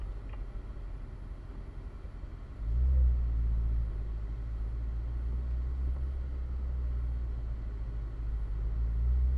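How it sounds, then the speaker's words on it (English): Corvette engine idling low and rumbling, then a short rev blip for a rev match before heading up to a track, settling into a steady deep drone. "Go ahead and get a rev match on."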